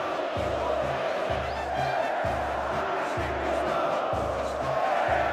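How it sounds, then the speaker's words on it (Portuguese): Grêmio supporters chant rhythmically in a stadium during the Copa do Brasil 2016 title celebration, a distant, steady crowd roar with pulsing sung phrases repeating under a loud announcer's voice. "E a torcida grita, vamos ver o que eles gritam"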